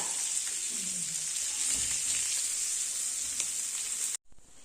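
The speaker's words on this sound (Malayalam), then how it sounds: "അങ്ങനെ ഫിഷ് ഫുള്ള് ഫ്രൈ ചെയ്ത് കഴിഞ്ഞു." Fish frying in oil gives a constant close sizzle with faint stirring scrapes, then it abruptly stops just before the end.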